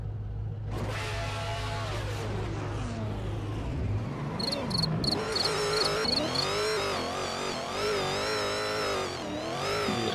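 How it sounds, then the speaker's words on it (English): Crickets chirp in the background of a Scottish virtual drift racing series qualifying session, a faint high trill that stays under the loud, rising and falling revs of drift car engines, with no talking. "You can hear the crickets in the background again."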